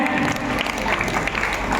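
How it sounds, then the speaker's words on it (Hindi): A crowd applauds at a school farewell and honour ceremony, with loud, dense clapping running steadily throughout and a voice faintly mixed in. "जोरदार तालियां बजाएं"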